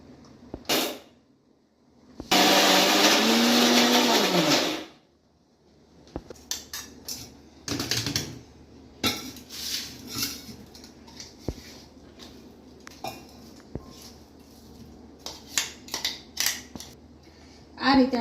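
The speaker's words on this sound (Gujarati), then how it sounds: "હવે આપણે મિક્સરમાં ફેરવી લઈએ બધો મસાલો" A kitchen mixer grinder whirs loudly for about two and a half seconds while grinding spice masala for stuffed brinjal and potato curry, then stops, followed by scattered clinks and handling noises.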